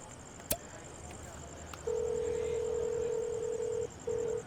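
A telephone in a Telugu comedy scene gives a sharp click, then a steady electronic tone that holds for about two seconds, pauses briefly and resumes, over faint room noise.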